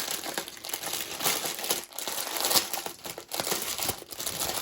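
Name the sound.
crinkling plastic packaging of floss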